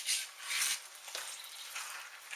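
Chili ingredients get stirred in a cast iron Dutch oven, giving bright scraping sizzles in a few uneven strokes, close and moderately loud, with no talk.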